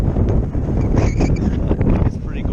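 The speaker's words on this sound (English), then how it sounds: "Sorry about the wind." Strong wind on a Colorado mountain peak buffets the microphone with a constant low rumble and roar; a voice speaks briefly beneath the gusts.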